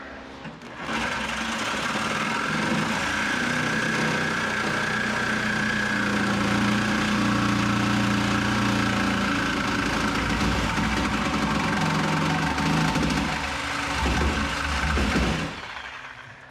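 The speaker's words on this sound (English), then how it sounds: "First up, sawzall time." A Sawzall reciprocating saw cuts through the crashed body of a 1967 Mustang. The loud, buzzing drone runs for about fifteen seconds with no pause, its pitch shifting slightly as the blade works through the metal.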